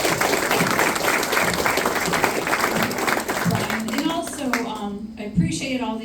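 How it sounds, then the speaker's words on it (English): Audience applause at a Republican governor candidates' night fills the room steadily and loudly, then thins near the end as a speaker's voice comes through. "I appreciate all the applause"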